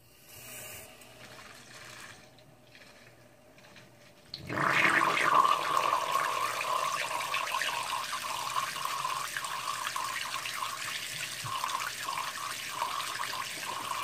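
Water rushes loudly and continuously through a homebrew beer filter being back flushed, starting abruptly after a quiet few seconds and holding a steady hiss to the end, with no talking.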